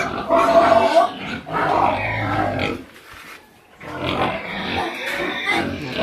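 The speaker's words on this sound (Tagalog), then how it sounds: "Madaming alagang baboy" Several pet pigs kept in a backyard pen grunt and snort close by in rough, low bursts, with a brief quieter pause midway before the grunting resumes.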